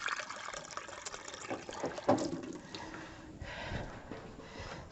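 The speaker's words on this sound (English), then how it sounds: "let me just grab some water, because I know I'm going to need some water for this mix" Water poured from a tap or jug for a sweet bread mix, a steady broadband gush lasting several seconds with a brief louder splash partway through, close and alone.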